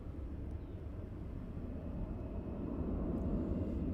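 Airliner passing overhead near Luton Airport as it banks left over a house, a steady low broadband roar that swells gradually louder toward the end, with no talk.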